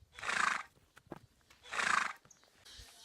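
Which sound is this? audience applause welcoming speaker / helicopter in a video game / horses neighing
horses neighing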